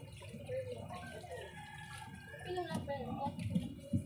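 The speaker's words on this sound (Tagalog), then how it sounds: "Pinabuhosan ko muna ng tubig mga kabutingting dahil daming buhangin" Water is poured into a Sharp twin tub washing machine that will not drain, rinsing out sand with a soft, uneven splashing and trickling, fairly faint under someone talking.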